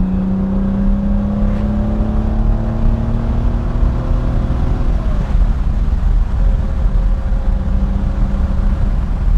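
A 1964 Aston Martin DB5 coupe downshifts from fourth to third with a throttle blip, then accelerates hard, its loud engine note rising in pitch and droning steadily, with nobody speaking.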